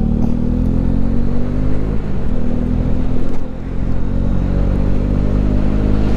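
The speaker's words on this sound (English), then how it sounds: "I'm on a motorbike and I've got a skateboard strapped to my back." Honda CB125R motorcycle on the move, its engine a loud steady drone with a slight dip in pitch midway, wind and road rumble close throughout and no voices.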